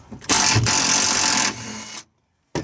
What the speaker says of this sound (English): we're gonna remove these 2 14mm bolts